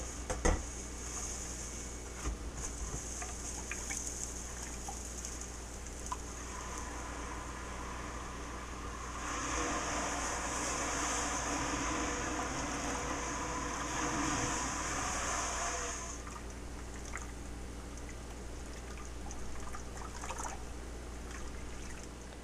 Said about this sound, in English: this groaning, swishing sound that the potassium hydroxide makes